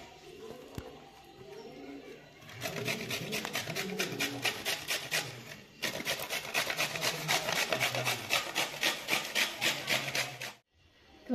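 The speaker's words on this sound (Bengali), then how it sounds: "পুরো আমটাই তো আমি একদম হেটারে করে একদম সুন্দর করে ঘষে নিয়েছি" Raw green mango rubbed hard against a kitchen grater in quick, steady back-and-forth rasping strokes, close and loud, running in two long bursts with a short pause between them.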